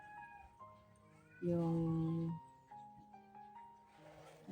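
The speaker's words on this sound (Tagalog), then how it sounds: "Yung pusa ko, ewan dito ng ilang araw." Pet cat at home meowing in a loud, drawn-out cry midway, with softer vocal sounds around it and a person talking quietly in the background.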